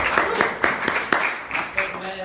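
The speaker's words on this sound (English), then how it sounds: "a massive round of applause for her" An audience at a mentalist's stage show during a TV product launch applauds a volunteer, irregular claps rising in bursts at moderate level while voices and laughter carry over the top.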